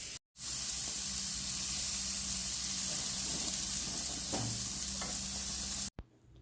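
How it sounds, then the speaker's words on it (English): Meat, flap steak, sizzling steadily on a grill, a close continuous hiss and crackle with a low hum underneath, cutting off abruptly near the end. "Chris is grilling us up some lunch"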